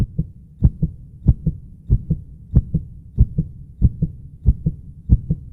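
A steady heartbeat sound effect, lub-dub pairs repeating about every 0.6 seconds, deep and thumping, loud and close with nothing else behind it.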